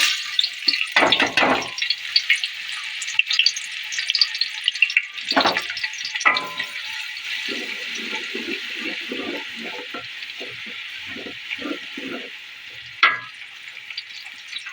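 Chopped onion drops into hot oil and ghee and fries with a loud, steady sizzle up close, punctuated by bursts of crackling and stirring scrapes, with no speech.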